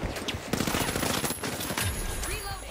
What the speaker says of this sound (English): we got a turret going through here